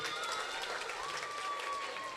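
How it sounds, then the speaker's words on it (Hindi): Applause from the audience at a community student-honour and swing ceremony, a dense steady wash of clapping filling the whole moment, with a faint sustained tone running beneath it. "जोरदार तालियां इनके लिए"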